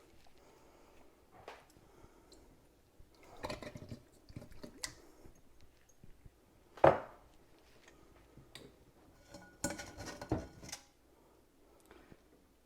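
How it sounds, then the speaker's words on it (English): Oysters being dumped into a metal strainer set over a bowl, soft wet squishes and clatters in a few scattered bursts, with one sharper knock, close and fairly quiet with no talking. "when you go ahead and strain it, you have to dump the oysters in and make sure you have a bowl underneath of your strainer"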